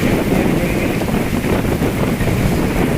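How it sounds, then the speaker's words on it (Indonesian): Strong wind roars across open sea, a loud, steady broadband rush with water and waves churning beneath it and heavy buffeting on the microphone throughout. "Angin keras melanda."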